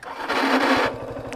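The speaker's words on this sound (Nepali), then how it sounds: "ओइ के कराउँछ यार बाइक" A motorcycle on an offroad trail makes an odd noise, a fast, regular low thudding under a rough hissing roar, close and fairly loud.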